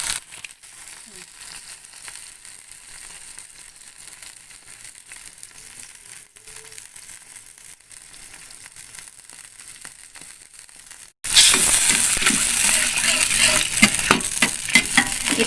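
Soy sauce goes onto tofu frying in a pan, with a faint steady sizzle and stirring that suddenly jumps to a loud, bright hiss near the end.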